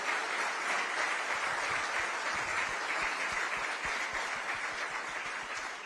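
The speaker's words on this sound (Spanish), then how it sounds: "aplauso para lo que han hecho" Applause from the audience at a Latin American forum in the Dominican Republic, a steady wash of many hands clapping at moderate distance, filling the whole stretch without talk.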